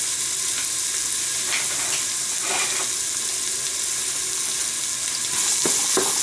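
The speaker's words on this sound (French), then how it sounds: "Je rajoute tout de suite mes oignons" Onions sizzling and frying in olive oil in a Cookéo pot, a steady loud crackle throughout with a few brief stirring scrapes, no voices.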